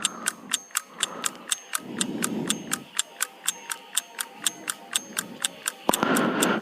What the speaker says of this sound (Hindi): चलिए घड़ी महोदय जी ऑन हो चुके हैं